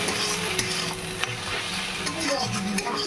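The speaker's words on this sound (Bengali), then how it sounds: "তো কলমি শাক ভাজাটা আমার হয়ে গেছে।" Water spinach sizzling in a frying pan while being stirred, a continuous close hiss broken by several sharp scrapes and taps of a utensil against the pan.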